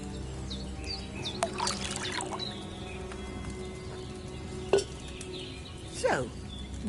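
Wine poured from a pitcher into an alchemy cauldron in Kingdom Come: Deliverance II, a soft trickling stream running for a couple of seconds, then a few brief splashes and clinks against a faint ambient bed with occasional bird chirps.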